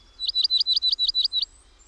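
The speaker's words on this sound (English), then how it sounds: "Dear snowbird, Junco, yes, you with the dark eyes, dark-eyed Junco." A dark-eyed junco, or snowbird, gives a quick, clear trill of about eight evenly spaced high chips, close and crisp against a quiet background.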